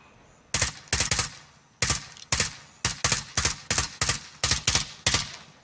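Gunfire in Call of Duty: Warzone comes in sharp, loud bursts of rapid shots, several clustered volleys separated by brief pauses, heard alone without talk.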